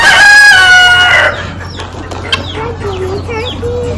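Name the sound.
guinea fowl at a stockyard sale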